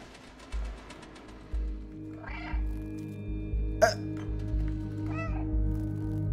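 Cat meows from the video game Stray, a few short mewing calls spread over several seconds against a steady low game-world hum, fairly close and clear.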